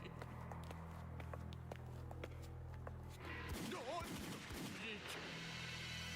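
Faint gunfire from a video game: scattered sharp shots, then a louder, busier burst of fire near the end, with people talking over it.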